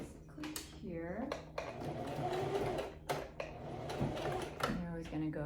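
A sewing machine stitches the lining of a Tahitian headdress in short bursts of rapid needle chatter, broken by clicks and fabric handling, close and quiet while a person talks throughout.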